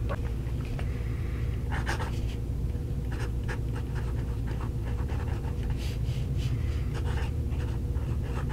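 A restored gold-filled vintage fountain pen nib glides across paper, a faint, steady scratching with repeated short strokes over a constant low background hum.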